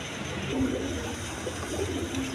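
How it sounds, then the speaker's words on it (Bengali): High-flying pigeons cooing nearby, a few soft, low, rolling coos spread across a steady background hum, with no voices. "বন্ধুগণ এখানে এক পেয়ার কবুতর আছে, দেখেন হাই ফ্লাইং কবুতর"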